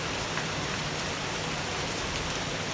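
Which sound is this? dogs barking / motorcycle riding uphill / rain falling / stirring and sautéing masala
rain falling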